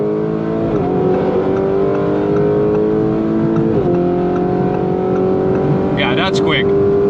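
A Lamborghini Urus in Corsa mode on 23-inch wheels accelerates at full throttle on the Autobahn, its loud engine drone climbing steadily with brief dips at two gear shifts, heard from inside the cabin; a short voice cuts in near the end.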